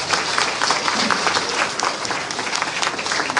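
A standing audience at a student oath-taking ceremony claps loudly and continuously, a dense, even wash of many hands filling the hall.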